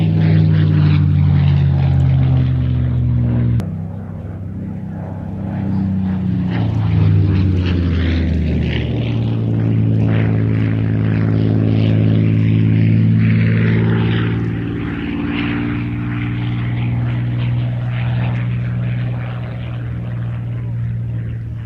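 A restored propeller aircraft passes over the Midlands Airshow, its engine droning loud and steady with a rising and falling pitch as it sweeps by close overhead.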